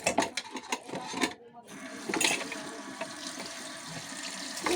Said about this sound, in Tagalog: Lalagyan na siya ng tubig.